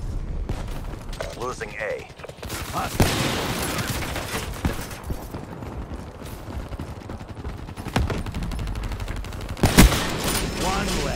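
Rapid bursts of explosions and gunfire from a Hellstorm missile strike in a shooter video game, with heavy blasts around the middle and end, mixed with a brief spoken line.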